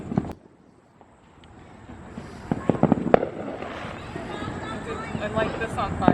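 A firework tank sets off a rapid string of small crackling pops that grows from near silence into dense bursts. People talk nearby while it goes off.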